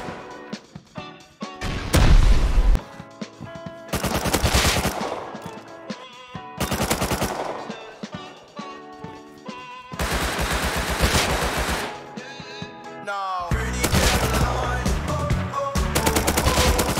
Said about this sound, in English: I keep dying to the shotgun traps.